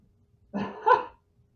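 A dog gives a single close bark with a short two-part rise, loud against near silence.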